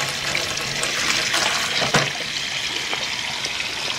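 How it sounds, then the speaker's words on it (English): Water runs steadily through a newly thawed, previously frozen drain pipe with a constant hissing trickle nearby, broken once by a short knock. "water is coming out the other end"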